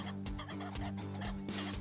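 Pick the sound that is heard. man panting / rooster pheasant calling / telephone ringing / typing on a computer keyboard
rooster pheasant calling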